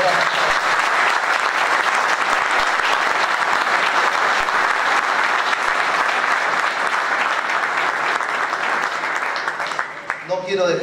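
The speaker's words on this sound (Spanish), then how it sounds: "pido un gran aplauso" Sustained audience applause at a provincial motorsport festival presentation, dense steady clapping from a large crowd lasting about ten seconds before tapering, with a voice speaking near the end.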